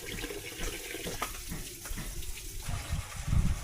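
Tap water pours steadily into a cooking pot for boiling bamboo shoots, a continuous close gushing stream lasting several seconds with slight shifts in intensity.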